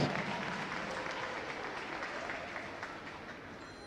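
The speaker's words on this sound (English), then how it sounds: "fans, let's give all of these amazing hockey alum a big Mirage round of applause" Hockey fans in an arena at a women's team's season opener applaud the team's alumni, a broad, steady wash of clapping that holds through the whole stretch with only a faint trace of voices.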